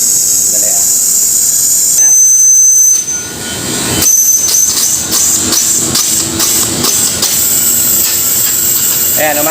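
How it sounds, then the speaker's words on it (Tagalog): The compressor of a Midea 5-ton air conditioner runs on single-phase power converted from three-phase, giving a loud, continuous mechanical drone with a whine and repeated clicks and rattles close by. "Ayan, umaandar yung compressor natin."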